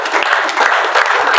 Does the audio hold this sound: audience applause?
yes